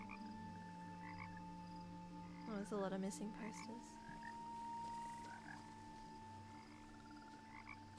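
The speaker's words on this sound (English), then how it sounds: "Why do frogs always sound like they're right next to you?" Frogs croak in the video game What Remains of Edith Finch, a sudden burst of several throaty, rattling croaks over a quiet ambient drone, followed by a voice speaking briefly.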